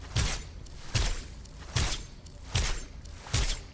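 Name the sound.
video game ice splash effect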